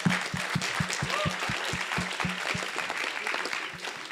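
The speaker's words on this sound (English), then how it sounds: "Let's give them a round of applause." At the grand finale of an international physicists' tournament, an audience applauds the German team, a steady crowd clapping with some louder rhythmic claps close to the microphone.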